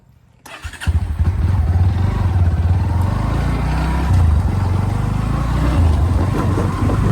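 A motorbike engine catches after a brief quiet moment and settles into a loud, steady, close-up rumble that holds for several seconds, with no voices.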